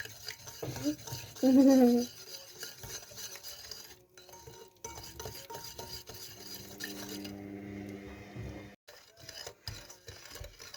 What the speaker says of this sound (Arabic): نقلب كده لحد ما ندوب كل المكونات كده مع بعض